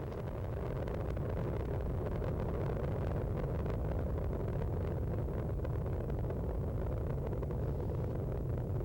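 Space Shuttle Discovery's three main engines roar during the STS-96 launch, heard as a steady, distant, deep rumble that holds unbroken from start to finish.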